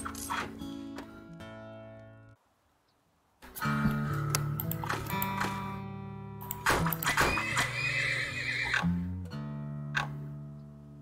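Horses in the video game Turnmoil whinny and neigh in a busy stretch of game sound effects with repeated tonal calls, a brief near-silent gap, then layered whinnies and clattering noises.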